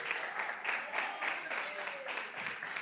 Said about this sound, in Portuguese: Palmas de vitória.